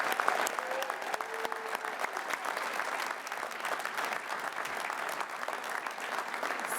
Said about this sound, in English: Give him a huge round of applause for hosting us tonight.